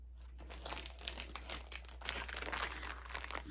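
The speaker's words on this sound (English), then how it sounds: "Excuse the crinkle because it's in a bag." A plastic bag holding a cross-stitch pattern crinkles repeatedly close up, with a busy stream of crackling rustles over a low, steady hum.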